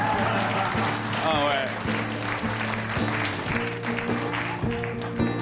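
Comedy club audience applauding during a stand-up set, dense steady clapping throughout with crowd noise and a low rhythmic musical thump underneath.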